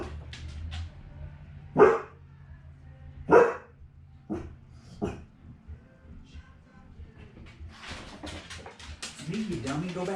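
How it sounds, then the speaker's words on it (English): A pet dog barks in a home several times, sharp separate woofs spaced a second or two apart, followed by softer whimpering yips, with a person talking nearby in between. "You don't have to bark."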